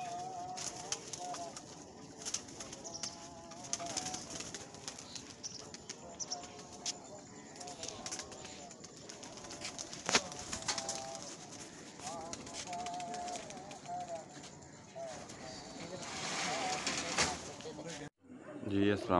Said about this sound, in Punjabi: ਕਬੂਤਰ ਉੱਡ ਰਹੇ